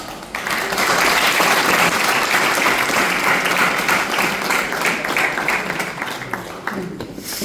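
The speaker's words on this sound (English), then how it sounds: "Let us give a round of applause." Sustained applause from a school audience of tenth-grade students at a motivational session, a dense, even wash of many hands clapping that starts abruptly and carries on strongly to the end.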